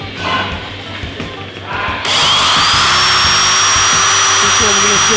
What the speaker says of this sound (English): Next out is the drill.